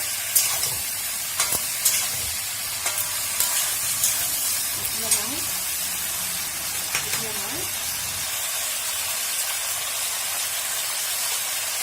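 Mixed vegetables seasoned with salt and turmeric fry in a pan with a constant hiss, occasional spatula clicks and stirring strokes, close by, with faint background sounds.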